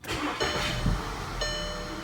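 A car engine being started again right after it was shut off, close up: a short cranking catch, then the engine settles into a steady running hum, with no talking.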